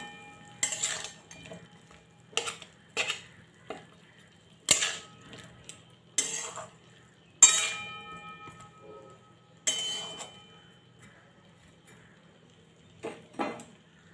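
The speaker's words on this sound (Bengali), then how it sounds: "এবার এগুলোকে খুব ভালো করে মিশিয়ে নেব" A spoon clinks and scrapes against a pan while spiced bottle gourd leaf curry is mixed: about eight sharp, sparse metallic knocks in uneven bursts with quiet gaps between, no talking.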